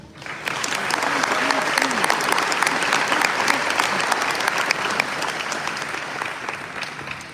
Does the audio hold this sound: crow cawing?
no